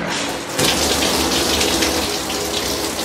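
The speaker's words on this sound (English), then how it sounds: "That was a nice shower." A shower runs at home with steady, hissing water spray, loud and close, swelling slightly stronger after the first half second and holding constant to the end.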